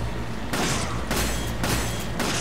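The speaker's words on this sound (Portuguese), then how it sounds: "Por que que os caras não aproveitaram os videogames atuais e fizeram as explosões das granadas desse jogo serem de fogo mesmo?" Grenades burst in Resident Evil 5, several loud broadband blasts in quick succession, roughly every half second, over a dense rumbling game soundscape.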